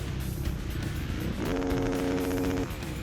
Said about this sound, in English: you hear the panic rev in celebration